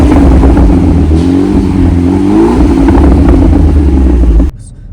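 A BMW 428i fitted with an M2 exhaust back box revs loudly up close, its deep rumble rising and wavering before cutting off abruptly, with faint voices in the background.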